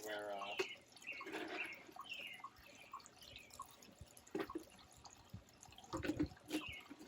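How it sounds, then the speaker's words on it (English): Water trickling and dripping from a filtration setup in an outdoor turtle stock tank, a soft irregular flow with splashes, while a person talks over it. "Obviously this is causing water flow, but it's not disrupting the surface."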